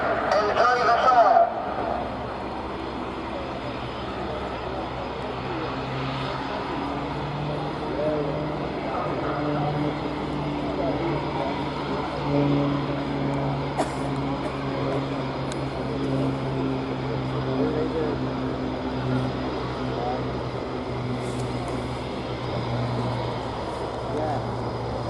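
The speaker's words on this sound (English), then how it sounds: "the pilot is accelerating to a speed of 300 miles per hour, descending at 100 feet above runway" A fixed-wing display aircraft accelerating low over the runway at the Royal Navy International Air Day at RNAS Yeovilton, a loud sustained engine roar that holds steady throughout, with brief crowd or announcer noise at the start.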